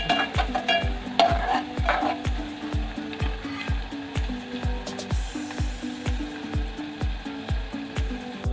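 Onions frying for spicy Kolhapuri mutton, a sizzling pan under a steady, rhythmic series of stirring scrapes roughly twice a second, close and even, with no speech.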